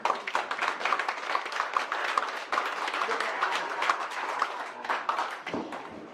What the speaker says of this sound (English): So give Matt and Dan a round of applause here.